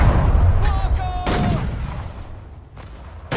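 Gunfire from units in the war strategy game Sudden Strike 4, set in the North African desert campaign: a few loud, sharp shots and blasts stand out over a steady rumbling battle background, with a short tonal whine partway through.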